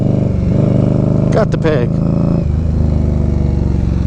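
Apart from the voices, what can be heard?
Indian Scout Bobber motorcycle riding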